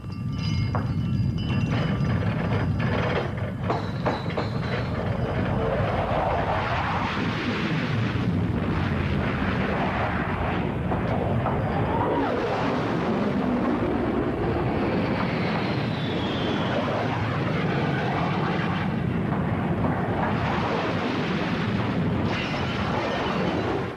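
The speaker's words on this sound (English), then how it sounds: "he experiences what he has long dreaded, bombers streaking overhead on their way to begin World War III" Bomber aircraft streak overhead in a scene from the film The Sacrifice, a loud, continuous roaring rumble with rising and falling swells that stays dense for the whole stretch, with no speech.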